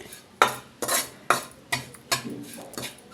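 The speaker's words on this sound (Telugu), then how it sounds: "మంచి స్మెల్ వచ్చేంత వరకు స్లోగా వేయించుకోవాలి ఇది చక్కగా వేగుతుంది" Sesame seeds dry-roasting slowly in a pan, stirred with a utensil: a close series of about eight rhythmic scraping strokes against the pan with a light rustle of seeds, and no talking.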